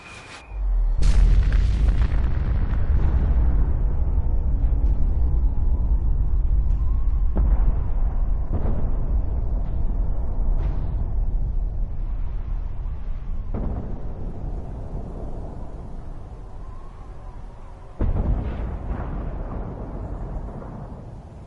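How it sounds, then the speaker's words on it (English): A huge explosion in the video game Fallout 4 erupts as a loud boom, then a long rumbling roar follows with scattered cracks and a second burst near the end, no voices over it. "Ah, my favorite explosion."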